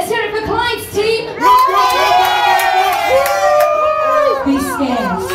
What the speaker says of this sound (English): Let's hear it for Clyde's team.